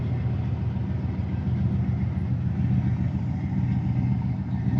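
A hot rod with a huge supercharger blower and carburetor setup idles steadily at a drag week route stop, a loud, continuous low rumble close by with no pauses.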